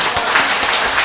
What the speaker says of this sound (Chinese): 那我们热烈鼓掌欢迎哦